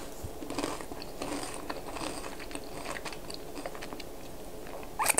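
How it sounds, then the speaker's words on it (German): Homemade crispy fried onions being chewed up close, a quiet run of crunchy, crackling bites over about five seconds with no talking, ending in a brief sharper rattle. "ich mache für euch die Geschmacksprobe."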